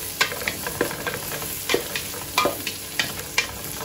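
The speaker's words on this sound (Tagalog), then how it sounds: "Sa akin kasi, sinusuti ko yung sili." Chili peppers sautéing in a pan while cooking crab, a steady close sizzle with repeated clicks and scrapes of stirring, no voices.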